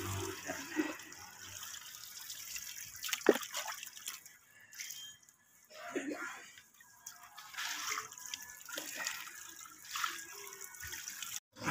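Water sprays and splashes across the engine bay of an Isuzu Crosswind during washing before parts are replaced, with uneven hissing and dripping that comes and goes in bursts, close by and with no voices.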